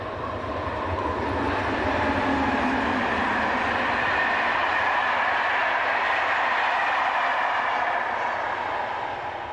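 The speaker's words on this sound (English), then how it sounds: "You can expect on average at least one, if not two, German locomotives to make an appearance each hour." A German locomotive-hauled train passes close by with a loud, continuous rumble and broadband rail roar that holds steady for the whole stretch, with no voices.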